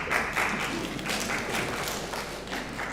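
Conference audience at an African Curriculum Association gathering in Nairobi claps, a continuous, even patter of many hands heard at moderate loudness for the whole stretch.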